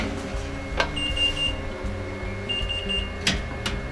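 A Patamix kitchen machine runs its choux pastry program with butter inside, giving a steady mechanical hum with a faint tonal whine, broken by a few short clicks and bright electronic beeps.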